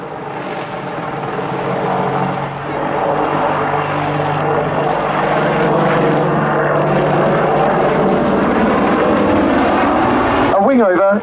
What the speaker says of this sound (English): Jim will now fly a short routine to display the Apache's impressive range of manoeuvrability.